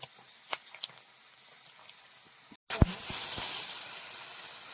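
Dried red chillies drop into hot oil with mustard seeds for a Kerala pearl spot curry, a few soft pops giving way to a sudden loud burst of sizzling hiss that continues steadily, close and alone.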